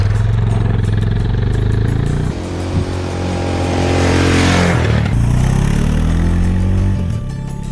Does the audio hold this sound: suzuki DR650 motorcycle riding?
yes